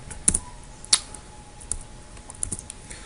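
Scattered keystrokes on a computer keyboard while C++ code is entered, a few sharp clicks spread irregularly over a quiet room background, close and fairly soft.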